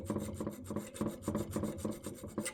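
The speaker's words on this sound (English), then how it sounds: "I'm going to file it until I get it completely level." A steel file rasps across a scrap-metal dagger blank to level it, in about nine steady, close back-and-forth strokes with short pauses between them. No one speaks.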